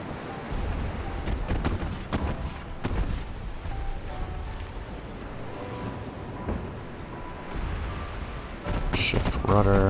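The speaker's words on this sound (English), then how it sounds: "Engaging in a gunnery duel and winning" Naval gunfire in the warship game Ultimate Admiral: Dreadnoughts, with repeated heavy booming shots over a rushing sea and wind bed. Someone speaks at times over the battle.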